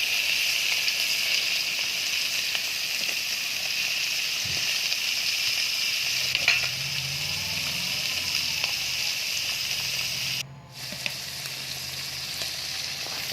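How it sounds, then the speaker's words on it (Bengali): A small batch of fish fries in a pan with a steady, moderate sizzle and hiss throughout, with occasional soft clinks and stirring noises partway through. "দেখো, মাছগুলো আমি একবারে দিয়ে দিলাম, অল্প কটা মাছ তো,"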